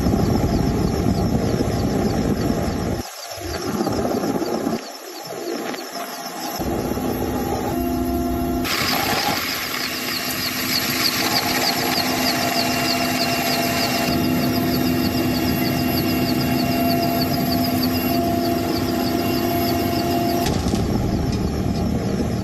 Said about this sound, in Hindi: वायुसेना के 2 हेलीकॉप्टर